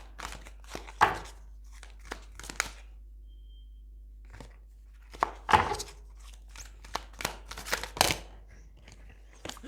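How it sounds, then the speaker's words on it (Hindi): A deck of tarot cards being shuffled by hand, giving irregular bursts of papery riffling and slapping with short quiet gaps, close and fairly soft, with no talking. "शफल एकदम से कार्ड नहीं हो रहा है"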